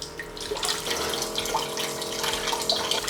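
Water rushes steadily through a bottomless purge bottle on a 3D-printed RC utility boat's water sampling system, then runs down a slide back into the waterway, making a continuous close splashing flow.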